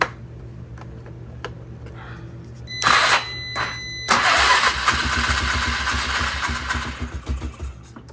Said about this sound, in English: it's going to take probably like 10 cranks to get this thing to fire up.